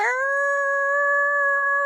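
Five-month-old puppies let out a single sustained, close howl that holds a clear steady pitch for nearly two seconds, loud and alone with no talk.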